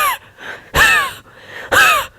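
A person imitates someone else's throat clearing with two loud, voiced, rasping bursts about a second apart, close to the mic, with quieter breathy sound between them.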